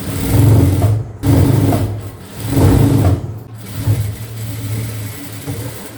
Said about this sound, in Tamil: அதே மாதிரி இந்த பக்கமாக நம்ம தையல் போட்டுக்கலாம்.